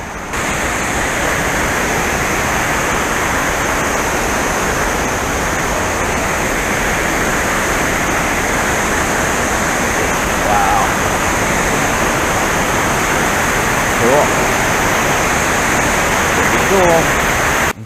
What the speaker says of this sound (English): There's a waterfall down there somewhere.